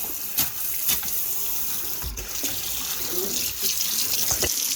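A tap runs steadily into a basin, a constant close rushing hiss with occasional soft clunks and splashes, flushing an electric water heater.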